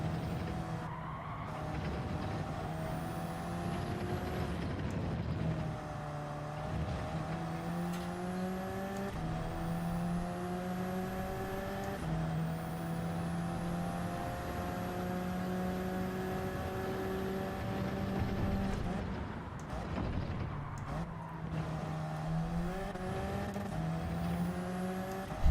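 Group 3 race car in Gran Turismo 7 at the Red Bull Ring, its engine droning steadily and loud throughout, pitch climbing through gears and dropping on shifts, with tire skids.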